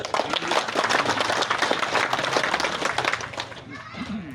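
A crowd claps at a Batak gathering with gondang and tortor; dense, steady clapping runs for several seconds, mixed with voices and thinning out near the end.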